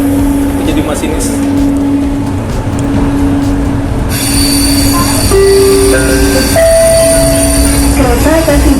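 An LRT Jabodebek train pulls into Setiabudi station, its wheels letting out loud, sustained high-pitched squeals over a constant rumbling roar, while talk carries on beneath the noise.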